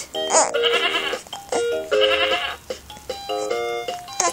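A toy turntable radio plays a bright electronic jingle with a sheep bleat, in several repeated bursts of tinny, musical tones, loud and close with no talk.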